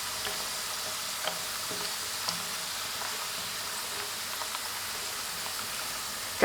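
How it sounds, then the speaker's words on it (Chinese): Dough twists deep-fry slowly in oil over low heat, a soft, steady bubbling sizzle with faint scattered pops, continuous and fairly quiet throughout. "全程开小火慢炸，防止一下炸糊。"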